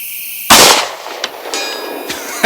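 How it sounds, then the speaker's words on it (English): Pistol round striking a steel target 200 yards off at night: a sharp metallic clang with a ringing tail, followed by a couple of fainter ticks and another impact at the end. "We just shot the steel at 200 yards with the Prodigy at night."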